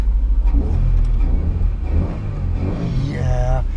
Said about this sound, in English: Let's put this button and start this engine.